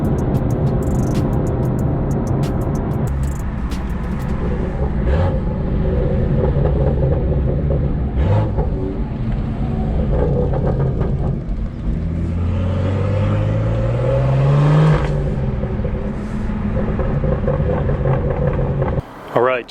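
A BMW F30 sedan with carbon fibre side skirt extensions rolls up and slows to a stop, its engine and road rumble loud and close throughout, briefly rising in pitch partway before settling, with a voice heard at times.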